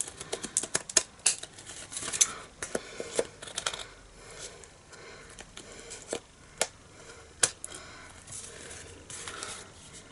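Paper card trimmed with scissors while making a ladybird birthday card, giving a run of short, crisp snips and clicks close by, irregularly spaced across a quiet room.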